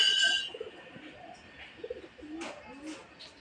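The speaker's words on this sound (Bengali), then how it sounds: "সব কবুতরগুলো কিন্তু টিনের চালের উপরে বসে গেছে দেখুন" Soft, low coos repeat in short phrases close by from pigeons perched on a tin roof, with a few faint chirps and light rustling in the background.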